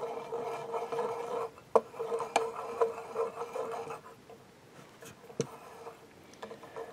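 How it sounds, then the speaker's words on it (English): A guitar tremolo arm is threaded into the bridge of a kit-built guitar, giving a faint, close, dry rubbing and scraping with a few light ticks over several seconds. "So just check if the trem arm screws in okay."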